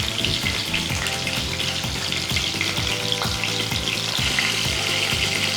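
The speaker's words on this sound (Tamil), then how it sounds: "ஒரு சைடு வெந்த உடனே நம்ம அடுத்த சைடு இப்படி திருப்பி போட்டு நல்லா கொஞ்சம் எண்ணெயில் முழுகிற அளவுக்கு" Crab pieces frying while submerged in hot oil in a pan, for a spicy Tamil-style crab fry, giving a steady loud sizzle and crackle with repeated low clunks as they are turned, and no voices.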